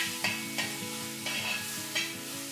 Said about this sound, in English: I'm going to add a teaspoon of red chili powder, a teaspoon of coriander seed powder, a teaspoon of cumin seed powder, and I'm just going to mix this quickly.